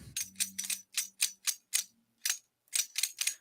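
Small bells jingle out the tune of Jingle Bells in a series of short, rhythmic shakes, with brief pauses between phrases, close and fairly quiet.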